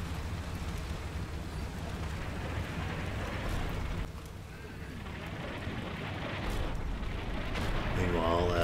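Mortar artillery fire in the Combat Mission Cold War game forms a dense, continuous roar of battlefield rumble and distant blasts. It dips briefly in the middle, then swells louder toward the end.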